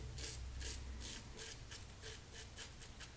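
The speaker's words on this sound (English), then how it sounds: "Just watch the pressure there because it's a bit raspy." Razor rasping across skin during a shave with lime shaving cream, a soft close scraping in about eight evenly spaced short strokes, faint and alone.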